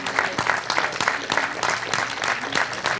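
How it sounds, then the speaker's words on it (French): Applause at a regional rally award ceremony, a dense, loud burst of clapping from a crowd close by, continuous for the whole stretch with sharp individual claps standing out. "Applaudissements, bien sûr."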